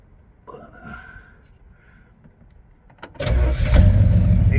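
A 1967 Pontiac Tempest with a V8 400 cranks over after a few quiet clicks and handling noises, then catches and roars into a loud, rumbling idle that holds to the end.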